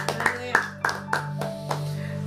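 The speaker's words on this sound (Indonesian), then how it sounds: "tepuk tangan yang meriah buat Allah kita" Applause from a church congregation during a sermon, a rhythmic series of distinct, fairly loud claps about every quarter second over a sustained musical tone, fading toward the end.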